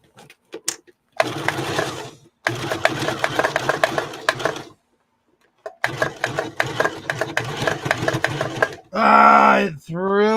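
A home sewing machine stitching fabric in short bursts, stopping and restarting several times with brief silent gaps, close and clear, followed by a higher whirring burst near the end.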